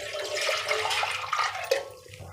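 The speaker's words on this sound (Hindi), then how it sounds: "हम एक पतीला लेंगे और हम इसी में पानी डाल देंगे।" Water pours into a cooking pot set on a gas stove while a recipe is being made, giving a continuous splashing gush that tapers off toward the end.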